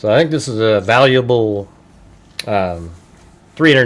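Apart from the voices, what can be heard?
None of the usual background noises is heard.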